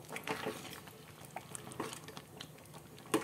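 Black chickpea kurma gravy bubbles and pops softly in a pan, with quiet irregular blips and a faint clink near the end.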